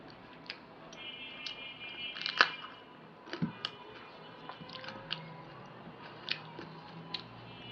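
Crunchy bites and chewing of a green banana chili eaten with beef biryani, close-up irregular crunches and smacks in a quiet setting, no talking.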